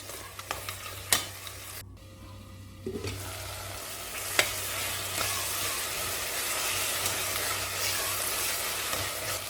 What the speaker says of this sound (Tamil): அரைச்சி வச்சா இஞ்சி பூண்டு சேர்த்துக்கலாம். 1 நிமிஷம் வதக்கி விட்டால் போதும்.